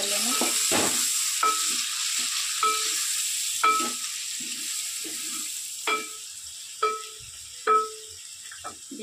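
Turnip being stirred in a pan with turmeric, red chilli and salt: a steady frying sizzle runs throughout while a utensil scrapes and clacks against the pan in a series of sharp, irregular strokes, close up.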